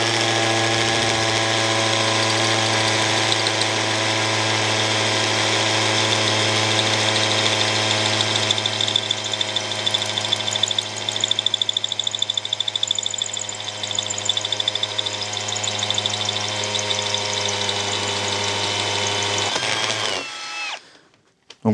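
Cordless Einhell TP CD 18/60 hammer drill boring into breeze block, a steady loud whining motor hum with rattling percussion that holds for about twenty seconds before winding down and stopping.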